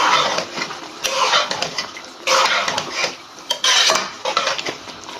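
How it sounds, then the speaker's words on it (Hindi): A spoon stirs roasted, ground garam masala into turnip and peas in a metal pot, giving loud, irregular scraping and clinking bursts in quick succession. "इसको मिक्स कर लेते हैं"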